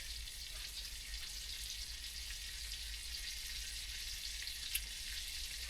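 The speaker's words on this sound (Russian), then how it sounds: "Сковородку ставить с рыбой." Fish frying in a pan on a stove inside a dugout shelter, a steady hiss of sizzling oil that runs evenly throughout, close by, with one brief sharp pop near the end.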